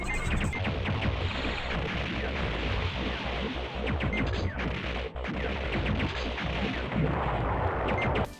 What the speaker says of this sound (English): The sounds these bombs make when they're used though